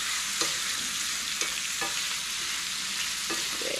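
Potatoes, kielbasa and bell peppers fry in a pan with a constant loud sizzle while a fork scrapes the bottom, giving a few short scratchy strokes spread through, close up and with no talking.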